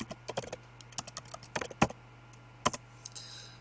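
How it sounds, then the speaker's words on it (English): Keystrokes on a computer keyboard entering text in Microsoft Word, a quick irregular run of close, light clicks alone over a faint steady hum. "type in works cited"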